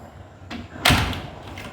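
A door in a newly finished house swings shut with a single solid thud, close and fairly loud, followed by a short fading rattle.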